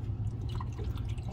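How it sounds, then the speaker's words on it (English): Water pouring into the reservoir of a Flair espresso travel kit, a steady close trickling and dripping that runs continuously for the whole short stretch with no talk. "I'll fill the reservoir up."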